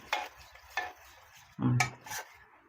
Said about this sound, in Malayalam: കട്ടയില്ലാതെ നമ്മളിങ്ങനെ കലക്കിയെടുക്കണം.